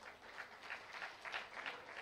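Applause from a modest church congregation during an online worship service, with clapping that swells in a few uneven pulses across a short stretch.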